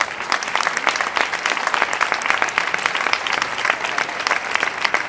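At a youth festival presentation of damas and reinas, a crowd gives a lady a strong, steady round of applause, dense clapping sustained at even loudness the whole time.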